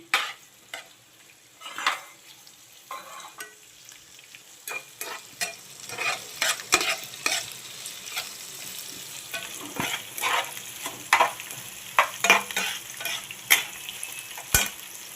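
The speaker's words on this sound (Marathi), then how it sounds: "आता आपण टाकणार आहे शिमला मिरची ढोबी मिरची" Bell pepper (capsicum) stir-frying in a pan with cut onions for mushroom paneer chili, a soft continuous sizzle punctuated by frequent irregular clinks and scrapes of a spoon against the pan.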